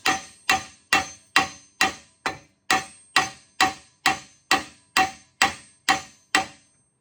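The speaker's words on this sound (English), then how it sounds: "So we'll use the bigger hammer, the biggest one I have, 32 ounce." Fourteen evenly spaced, ringing blows from a heavy 32-ounce hammer striking a stuck part of a Columbian No. 206 vise, each metallic hit decaying quickly before the next, loud and close with no talking.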